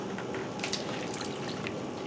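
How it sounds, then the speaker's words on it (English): Water streams into a pot for soup stock, with a steady splashing, trickling pour and small bright drips, fairly quiet and unbroken. "add in 8 cups of water to make the stock"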